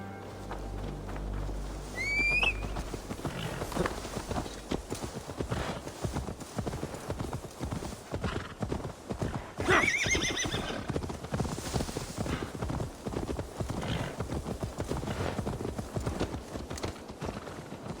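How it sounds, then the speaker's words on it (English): In Assassin's Creed Valhalla, steady clip-clopping hooves trot throughout, with a horse neighing twice, once early and once midway, over a faint outdoor ambience. "Now to deliver Magni his horse."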